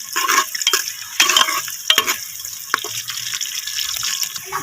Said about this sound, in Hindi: घी हमारा गर्म हो चुका है, इसमें हम प्याज ऐड कर देंगे। इसको हमें शैलो फ्राई करना है।